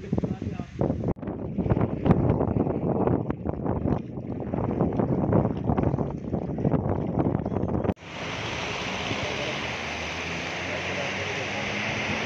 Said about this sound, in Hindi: ये डबल इंजन लगा हुआ है इसमें,